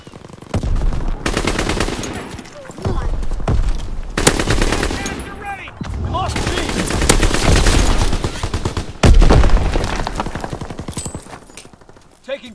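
Sustained machine-gun strafing fire from a World War II shooter game, loud and close, arriving in long rattling bursts with brief gaps, while voices call out over the gunfire.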